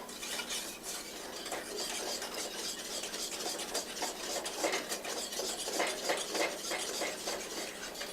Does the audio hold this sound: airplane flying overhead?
no